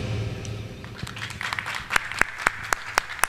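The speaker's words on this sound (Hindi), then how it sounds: "तालियों की गड़गड़ाहट बहुत कम है गुरुजी" Sparse clapping from a small audience at a religious storytelling gathering, starting faint and thin after a voice, then a handful of distinct, sharp, evenly spaced claps ringing out in the last half.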